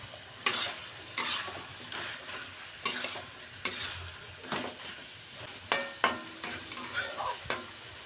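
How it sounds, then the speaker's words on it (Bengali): Fish head curry with gourd stems and potato frying in a pan, a soft sizzle punctuated by a dozen or so irregular scraping stirs of a spatula against the pot, close and without talk. "এভাবে কষিয়ে নেব, আর ঢাকনা দেবো না।"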